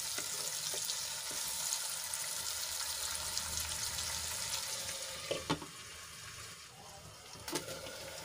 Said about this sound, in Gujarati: ટમેટા એડ કર્યા બાદ આપણે સરસ રીતે ડુંગળીમાં મિક્સ કરી લેવાના છે